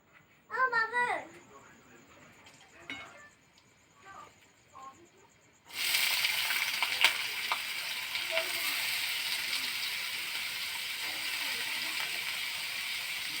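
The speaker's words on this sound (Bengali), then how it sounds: "এখন মা আলু ভাজা করবে ঠিক আছে আলুটা কেটে আলুটা ভেজে ফেলো" A voice and a few other sounds come first, then cut potato pieces hit hot oil, and a loud, steady sizzle takes over and carries on evenly to the end.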